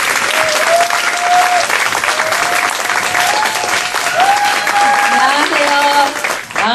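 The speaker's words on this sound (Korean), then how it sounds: "이정자 선생님 모실 때 큰 박수 부탁드릴게요" Loud audience applause welcoming a speaker to the stage at a business meeting, steady dense clapping throughout with music tones and voices mixed in beneath.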